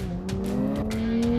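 A 2025 Nissan Z NISMO sports car in Sport Plus mode accelerates with a steadily rising engine note, loud and close, with faint tire noise under it.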